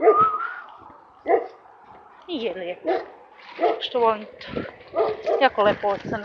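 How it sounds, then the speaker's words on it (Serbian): A dog barks, yips and whimpers in several short bursts close by, mixed with someone talking over it. "Kuca se čuje."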